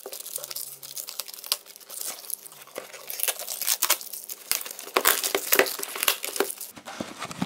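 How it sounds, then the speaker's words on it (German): Packaging for Lesli Whistling Thunder Kong fireworks is crinkled and torn open by hand, close up. The sound is a series of sharp rustling and ripping bursts that grow busier toward the end, with no talking. "Hab erstmal schön die Packung hier gerade zerrissen an der Seite"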